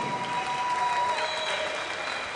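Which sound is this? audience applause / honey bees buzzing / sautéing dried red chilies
audience applause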